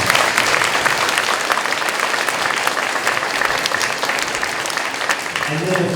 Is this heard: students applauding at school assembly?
yes